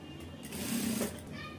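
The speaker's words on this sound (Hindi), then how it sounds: "यहाँ पे आप सिलाई लगा दीजिए और इसे जो है पूरा कंप्लीट करना है।" Sewing machine stitching fabric for a blouse, a brief soft mechanical whir that swells and fades, quiet and close.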